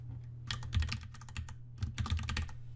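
Keys clack on a computer keyboard in two quick bursts of close, crisp typing over a low steady hum.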